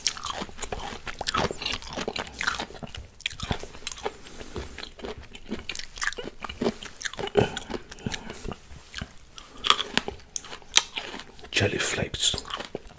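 Loud, close crunching and chewing of Thai mixed pickled fruits, with bites, moist mouth sounds and scraping in an irregular rhythm, and soft whispered talk in between.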